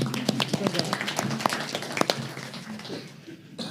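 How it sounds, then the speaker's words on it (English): Scattered audience clapping at a university panel on the school-to-prison pipeline. The claps are uneven and somewhat sparse and taper off toward the end. "Give a little clap."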